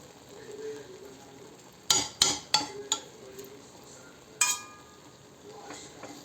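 Vegetable biryani is turned over in a cooking pot, with several sharp spoon-on-metal clinks in a quick cluster and one more a moment later, over a quiet, steady background hiss.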